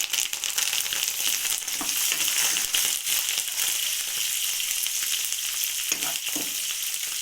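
Curry leaves fry in hot oil in a pan with a steady close sizzle and crackle, joined by a few stirring scrapes and pops, with no talk.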